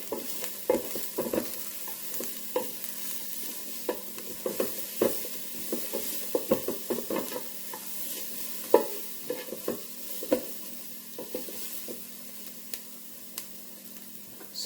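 Garlic and onions sautéing in a Ninja Speedi, a soft steady sizzle broken by frequent scraping stirs from a spoon, close and moderately quiet.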